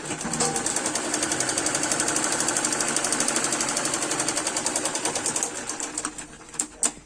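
A sewing machine stitches a patiala salwar in a long, steady, fast run, loud and close, slowing with a few separate bursts near the end. No one speaks.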